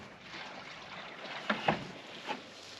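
RV waste water from a first dump at a new spot, flowing into a newly laid drain pipe under a pulled grate: a steady, soft rushing with a few brief knocks and splashes partway through.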